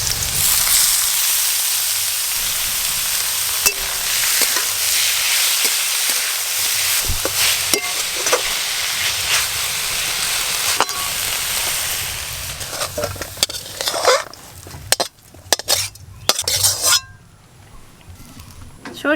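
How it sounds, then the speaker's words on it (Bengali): A ground banana flower mixture fries in mustard oil in a pan, giving a steady loud sizzle that gives way to scattered scraping and knocking stirs near the end. "বেটে রাখা মোচা দিয়ে আর একটু সব কিছু একসঙ্গে ভালো করে ভাজা ভাজা করে নেব"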